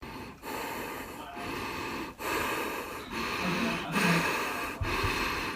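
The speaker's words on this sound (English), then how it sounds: "it's my own heavy breathing on reverb from Twitter" Heavy breathing drenched in reverb, a run of long, loud, rasping breaths and snorts, each swelling and cutting off sharply, echoing with a hollow wash and no words spoken.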